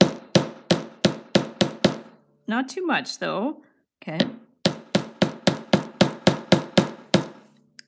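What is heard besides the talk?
hammering wire with a hammer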